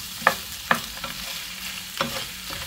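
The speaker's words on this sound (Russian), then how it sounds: "Теперь добавляем сюда сердечки. Снова перемешиваем." Chicken hearts frying in a pan are stirred with a utensil, giving a few sharp scraping knocks over a steady close sizzle, without voices.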